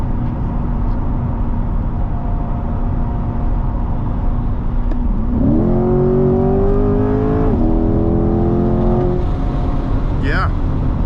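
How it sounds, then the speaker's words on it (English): A 2020 Chevrolet Corvette C8 3LT Z51 engine drones steadily, then revs upward through rising pitches as it accelerates, loud and close, with a voice briefly present. "Definitely a good, powerful engine. It gets up to speed fairly quickly."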